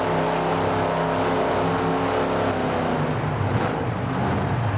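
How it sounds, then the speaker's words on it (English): A Ford monster truck's engine at a 1991 USHRA mud race, with the driver blipping the throttle twice. The motor drones loudly and steadily up close, then rises into a rougher surge near the end, with no talk. "He clears the throttle a couple of times"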